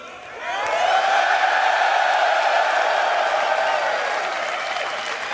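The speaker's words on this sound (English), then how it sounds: "So if we get a big cheer, we'll reveal the system." A panel audience at a Citizen Con convention erupts into loud cheering and applause that swells within the first half second, then holds as a dense, steady roar of clapping and voices before easing slightly toward the end.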